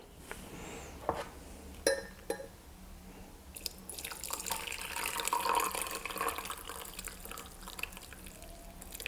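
Tea poured from a pot through a metal tea sieve into a cup, a steady close liquid trickle with a few small clinks of metal and glass at the start, no talking.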